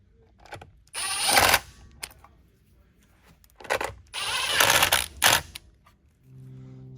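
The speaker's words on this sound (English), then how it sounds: "I'm going to remove these two screws so we can at least get this back on so it'll quit flopping around." A power drill backs two screws out of a Kirby Avalir vacuum during service, giving two loud, close whirring bursts of about half a second and a second and a half, with quieter handling clicks between them.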